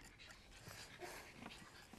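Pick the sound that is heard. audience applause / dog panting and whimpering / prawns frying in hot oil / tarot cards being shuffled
dog panting and whimpering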